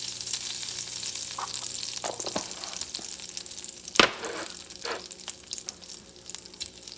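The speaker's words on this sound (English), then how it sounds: "And I start cooking the meat." Meat fries in olive oil with salt in a pot for a spicy stew, giving a steady close sizzle. Occasional stirring scrapes and one sharp clunk of a utensil come midway, with no talking.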